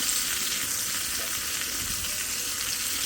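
Eggplant slices fry in a pan of oil, a loud, steady, close sizzle that continues unbroken throughout.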